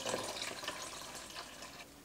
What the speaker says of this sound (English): I just filled up cold water to the halfway mark there.